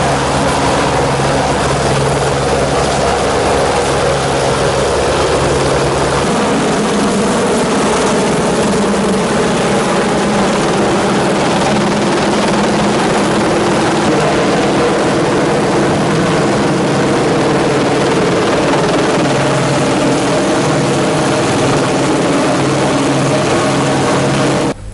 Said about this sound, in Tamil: சேகிரியா கடற்படை முகாமில் இருந்து இந்த இடத்திற்கு ஹெலிகாப்டர் வருகை தருகிறது